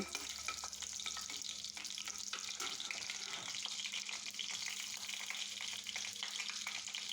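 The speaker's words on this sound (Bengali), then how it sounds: "প্রথমে এই মরিচটাকে আমি বেজে নিব তেলের মধ্যে" Dried red chilies, cut into small pieces, sizzle and fry in hot oil in a pan, giving a steady, close, continuous crackling hiss with no talking.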